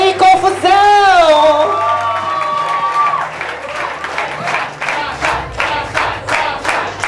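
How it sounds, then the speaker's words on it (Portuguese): A crowd at a drag queen pageant cheers and whoops loudly, with shouted voices at first, then clapping and applause that builds into rhythmic, dense claps near the stage. "Palmas pra ela, gente, mais palmas!"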